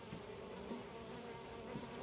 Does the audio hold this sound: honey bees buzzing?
yes